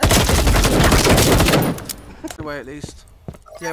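Rapid bursts of suppressed gunfire in a first-person shooter game fill the first second and a half, loud and dense, before giving way to excited player voices talking.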